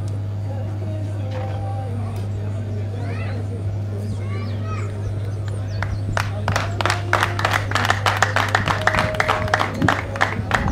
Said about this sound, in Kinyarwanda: amashyi menshi rwose, duhuze ibiganza tugushimire